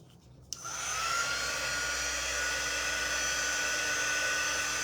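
A hair dryer starts with a click and then blows a loud, steady whirring hum close by to dry freshly painted poppy artwork.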